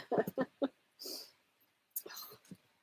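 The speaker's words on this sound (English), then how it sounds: "He's down there whining." Dog aboard a narrowboat whining and whimpering just after eating dinner, a few short breathy bursts and snuffles close by, with gaps of quiet between them.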